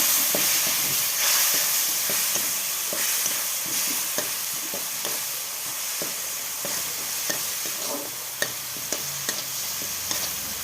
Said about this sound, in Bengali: মশলাটা কষিয়ে নিচ্ছি বন্ধুরা।